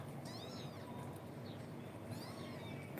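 A house cat meows softly several times, each call drawn out and rising, over faint outdoor background noise with no one speaking.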